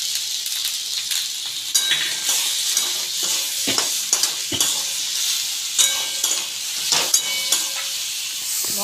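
Salt, turmeric and cumin powder fry with cauliflower and potato for a fish curry. Irregular spatula scrapes and stirring strokes ride over a bright, continuous sizzle close by.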